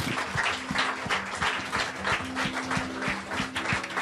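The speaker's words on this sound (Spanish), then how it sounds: "Den un aplauso al Señor." A church congregation applauding during a Spanish-language worship service, a soft, somewhat distant wash of clapping running steadily, with a low sustained musical tone underneath.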